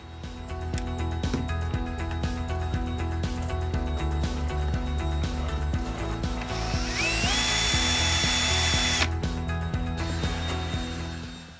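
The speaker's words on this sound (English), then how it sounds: "Drill a hole the same size as diameter of your selfie stick." A power drill bores a hole into the plastic handle of a selfie stick, a loud continuous motor whine with grinding and a rising pitch as it speeds up near the end, then winding down.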